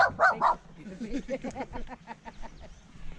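A dog barks three times sharply up close, then keeps up a quicker run of softer yips and whimpering barks, outdoors at an arboretum.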